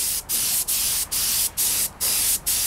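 Spray can laying a silver coat on a Yamaha R1 motorcycle front wheel, six steady hissing bursts in a regular rhythm with brief gaps between them, close and loud.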